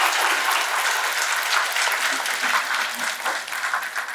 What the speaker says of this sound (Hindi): इसलिए एक बार जोरदार तालियां इसके लिए।